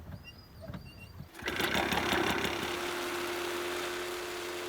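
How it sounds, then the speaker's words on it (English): A frame-mounted leaf harvester whose single motor drives both a sickle bar and a blower that sends cut leaf into bags. It is quiet at first, then the motor kicks in with a loud, steady, buzzing drone that holds to the end. "Nifty machine in that the one motor runs the sickle bar but also blows the leaf back into the bags."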